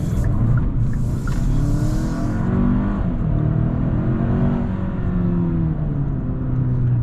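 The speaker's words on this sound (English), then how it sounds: "Yep, definitely a good amount of wheel spin on the inner tire or wheel." A 2022 Hyundai Santa Cruz accelerating hard with inner-wheel spin, loud engine roar rising and shifting in pitch from inside the cabin, steady and continuous throughout.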